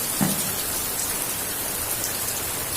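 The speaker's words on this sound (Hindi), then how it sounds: "फिर तेज होगी है बारिश" Heavy rain pours down in a steady, dense hiss on a monsoon day of Ganesh immersion, with no voices over it.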